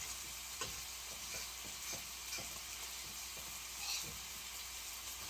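Eggs fry in a pan with a soft, even sizzle running throughout, broken by light scraping taps from stirring at irregular intervals. Fairly quiet and close, with no talking.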